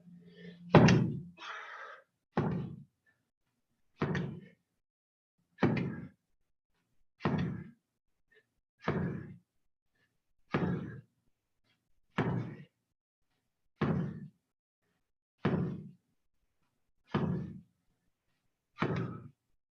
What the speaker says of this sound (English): One more set of slams. Last set of slams.